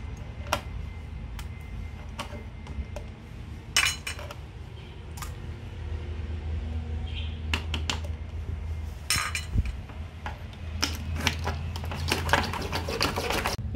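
Egg yolk being beaten for ponche de huevo, a utensil clinking and ticking against a container in irregular quick taps over a low steady hum, with no talk.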